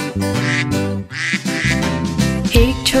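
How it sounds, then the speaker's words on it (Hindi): Cartoon-style duck quacks repeat loudly and close over bouncy nursery-rhyme music in a Hindi children's song about little ducks. "मामा बत्तख बोली क्वैक क्वैक क्वैक क्वैक"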